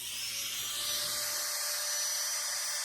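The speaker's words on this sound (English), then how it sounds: "I'm going to come back with my micro grinder again." Micro grinder relieving the primary wing feathers of a carved wooden sandpiper, a continuous high-pitched whine that holds steady and swells slightly louder partway through, heard alone without talk.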